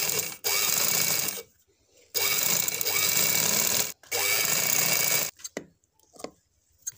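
A sewing machine stitches piping onto an umbrella frock, running in three long, loud, steady bursts broken by short pauses, then a few brief stops and starts.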